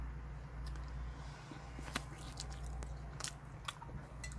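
A chewy, rice-cake-style ice cream bar from Emart Traders is bitten and eaten close up, with faint soft bites and squishy chewing ticks scattered over a quiet, steady room hum.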